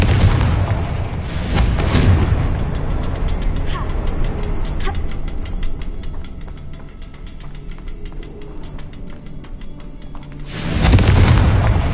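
A Confringo blasting spell goes off as a deep, rumbling boom with a sharp onset near the start, a long roaring wash that slowly fades, then a second heavy blast swelling near the end.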